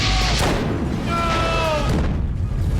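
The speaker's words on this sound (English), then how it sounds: "she could see explosions detonating above her on the upper levels of the hangar. Shots rang through her ears" Explosions and gunfire echo through a hangar, with a loud booming rumble and brief whining tones over it, made as sound effects in an audio drama.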